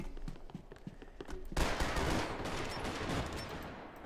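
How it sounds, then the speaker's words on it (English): Dual pistols fire in Max Payne 3 multiplayer: a few sparse shots open, then a loud, dense burst of rapid gunfire erupts and rattles on without pause. "Dual pistols."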